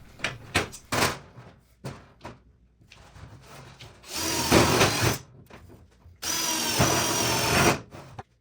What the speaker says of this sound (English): I'm going to drill holes and put rivets in